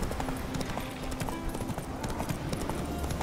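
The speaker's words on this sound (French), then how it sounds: "Ce cheval est bien quand on suit le chemin." Horse hooves clip-clop steadily along a path in The Witcher 3, a brisk, even rhythm of close, crisp hoofbeats over soft ambient game sound, with no talking.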